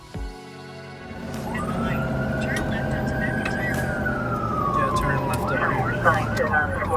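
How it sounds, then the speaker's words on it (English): A loud ambulance siren winds up and holds a long rising-falling wail, then shifts into rapid yelping near the end, with engine noise beneath. "we always go lights and sirens"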